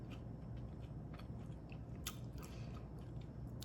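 Someone bites into and chews a zucchini and walnut pancake with cream cheese topping: soft close crunches and mouth sounds repeat irregularly at a low level, with no talk.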